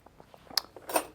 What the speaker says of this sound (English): These are some pewter spoons that I really enjoyed playing